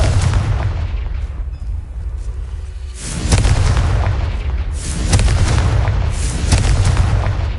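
A Confringo fire spell explodes in Hogwarts Legacy, a loud blast arriving suddenly after a quiet lull, then a second burst of booming, crackling impact shortly after.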